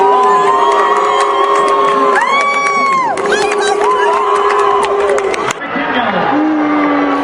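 Stadium crowd at a high school girls' 200-meter track race, a loud dense roar of cheering and shouting with whoops throughout, mixed jeers and applause blending into one sustained wall of voices.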